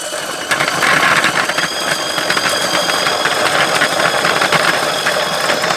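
A rechargeable onion-peeling machine runs with a steady, loud motor whir and a busy rattling of tumbling onions that holds evenly throughout, with no talking.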